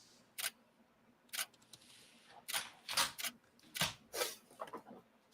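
Computer keys clatter in quick irregular bursts of clicks and taps, close by and fairly quiet, with no talking.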